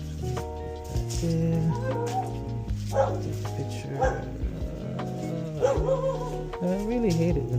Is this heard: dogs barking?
yes